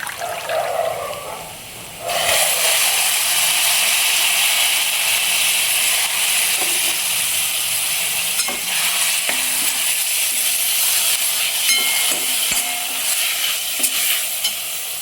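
A vegetable dish with chili powder frying in a hot pan: a short quiet lead-in, then a loud sudden burst of sizzling that settles into a steady hissing fry, with occasional clinks of a stirring spoon.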